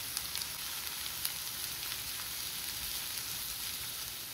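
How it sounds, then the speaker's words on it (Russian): Diced carrots fry lightly in a pan for soup, giving a steady, close, even sizzle with faint crackles throughout and no voices. "Морковь слегка обжариваю"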